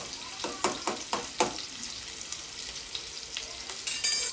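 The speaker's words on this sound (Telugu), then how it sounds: "ఆనియన్ వేసుకొని కొంచెం హై ఫ్లేమ్లో పెట్టుకొని మంచిగా ఫ్రై చేసుకోవాలి" Onions fry on a high flame with a loud, close sizzle, broken early by several stirring scrapes before the sizzle settles into a steady hiss.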